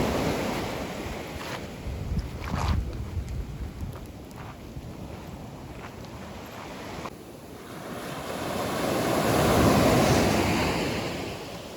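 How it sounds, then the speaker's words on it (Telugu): Large ocean waves roll onto Sur beach in Oman, a deep, continuous roar of surf mixed with heavy wind buffeting the microphone, swelling louder toward the end as a big wave breaks nearby. "చాలా పెద్ద పెద్ద అలలు అయితే వస్తున్నాయి"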